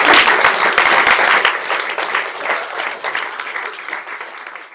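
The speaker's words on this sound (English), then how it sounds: "That's a clap." Audience applause at an on-stage conversation, a dense burst of many hands clapping that starts loud and gradually thins and softens over about five seconds, with no talking over it.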